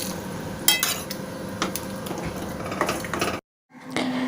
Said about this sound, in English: Now let's add the chana, that is chickpeas,